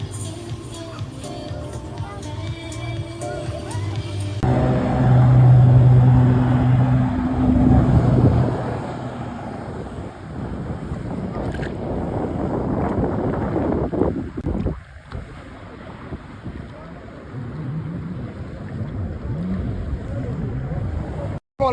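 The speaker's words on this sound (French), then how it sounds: "On va aller se faire une petite balade en jet ski là." A jet ski runs over open water near Dubai, its engine a steady broad roar mixed with wind buffeting the microphone and water rushing past, loud and continuous throughout the ride.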